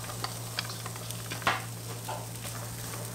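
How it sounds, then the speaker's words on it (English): Onion and jalapeno sizzling in a hot pan, a soft steady frying hiss with light crackles, a few clicks and one clear stir, close and quiet over a low hum. "Once your pan is heated up, you're just going to toss in your onion"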